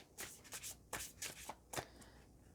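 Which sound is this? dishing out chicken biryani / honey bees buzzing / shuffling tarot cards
shuffling tarot cards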